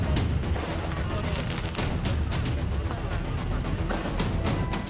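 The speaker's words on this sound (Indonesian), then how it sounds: "Polisi bubarkan tawuran lewat tembakan gas air mata." A rapid series of muffled gunshot-like pops and booms from police tear gas launchers echoes outdoors, mixed with crowd noise and a distant commotion from a street brawl between groups of teenagers in North Sumatra.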